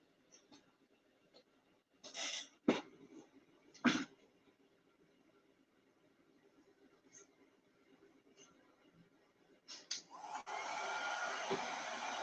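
A dryer, likely a heat tool, starts up near the end to dry an altered book box craft project in a quiet craft room. It is a steady airy whoosh that follows scattered taps and handling noises.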